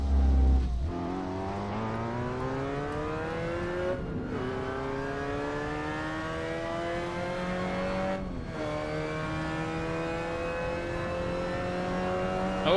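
Racing cars in the Assetto Corsa video game roar past in a loud, continuous chorus of engines, pitches climbing through gear changes with brief drops at shifts, no voices.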